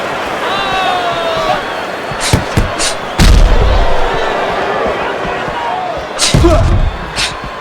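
Punches land in a boxing video game bout between Yuriorkis Gamboa and Naoya Inoue: a few quick heavy thuds, then two louder, deeper impacts, over steady background crowd noise with a commentator talking.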